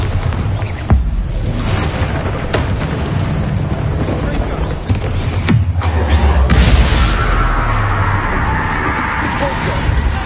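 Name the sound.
Bombarda blast spell explosion in the video game Hogwarts Legacy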